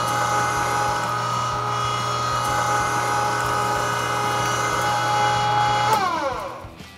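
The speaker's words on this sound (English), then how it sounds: "I'm just gonna grind it right in with our meat block." Electric meat grinder running steadily as it grinds thick-cut smoked bacon into a meat block for breakfast sausage, a loud continuous motor whine that holds even, then winds down and falls in pitch near the end.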